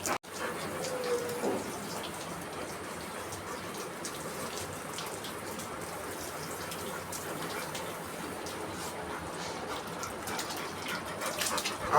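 Water is poured over Jimi the dog during a bath, a faint, steady running-water wash with soft splashes, continuous across the stretch, and a brief louder burst at the very end.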